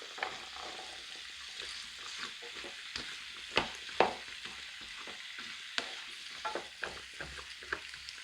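A spoon stirs carrots through a simmering vegetable curry in a pan, giving repeated scraping strokes and soft clatters over a low, steady sizzle, close and moderately quiet.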